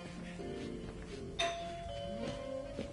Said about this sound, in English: That doorbell's been broken for years.